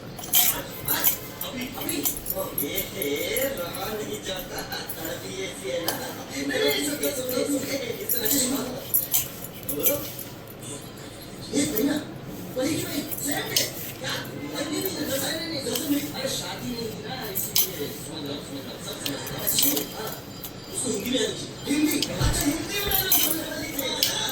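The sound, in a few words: mixing ingredients with ghee in a bowl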